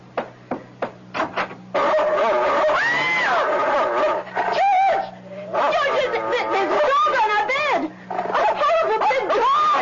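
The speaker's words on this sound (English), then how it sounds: "It's only a dog, for Pete's sake." A dog in a 1970s radio drama barks in a few quick yips and then whimpers and whines, heard close up and mixed with people talking over it.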